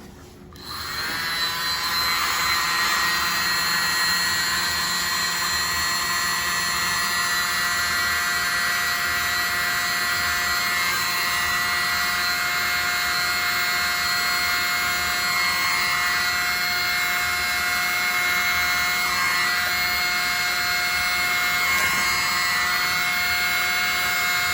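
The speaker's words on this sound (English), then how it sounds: "use my mini blower" A small electric mini blower used on an acrylic paint pour whirs with a steady high-pitched, tonal whine that starts abruptly and holds constant and close for over twenty seconds.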